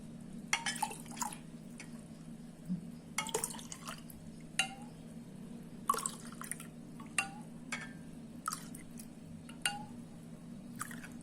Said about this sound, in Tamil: இப்போ போட்டுக்கிட்டு இதில் இந்த ஜூஸ் ஊற்றிக்கலாம்